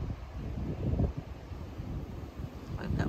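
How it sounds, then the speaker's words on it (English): Outdoor wind blowing steadily at sunrise in Saint Thomas, a continuous low rumbling buffet across the microphone with gusts swelling and easing throughout, no talk. "Wind is blowing, y'all."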